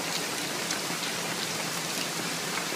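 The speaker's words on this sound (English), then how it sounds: "And it's pouring down rain." Heavy rain pours down steadily, a dense, constant hiss of drops drumming on surfaces with no letup.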